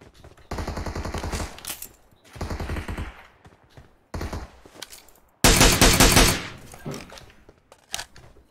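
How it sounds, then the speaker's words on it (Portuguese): Automatic gunfire in the mobile battle-royale game PUBG Mobile, with several loud sustained bursts of rapid shots separated by short gaps and a final harsher, louder volley near the end. "Alguém tá me atirando costa."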